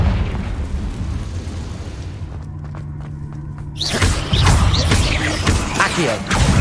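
A Confringo spell explosion in the video game Hogwarts Legacy bursts loudly, with a rumbling boom and crackling debris that swell after a brief quieter stretch of game sound.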